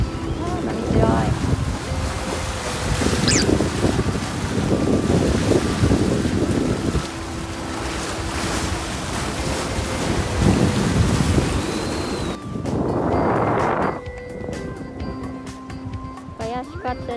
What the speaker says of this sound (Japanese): 波強い。